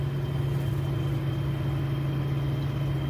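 A 1976 Datsun 280Z engine runs at a steady idle, a continuous close, loud low hum and drone with a faint crackle under it and no talk.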